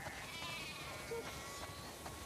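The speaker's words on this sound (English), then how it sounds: "We definitely have way too many sheep." Sheep bleat in The Last of Us Part II video game, a steady layered background of flock calls at moderate distance with a few louder bleats rising through, no talking.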